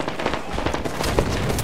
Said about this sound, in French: Attention, il y a quelqu'un qui a envoyé une grenade.